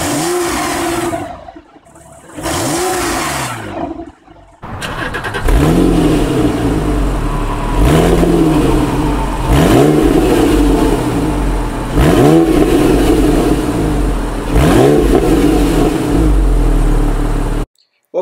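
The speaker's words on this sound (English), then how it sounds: "Let's take a look at how the car sounds before and after the gundo hack." A Porsche 997 911 exhaust revs repeatedly, each rev a sharp rise and fall in pitch, first two short blips with pauses, then a rumbling idle punctuated by several loud revs.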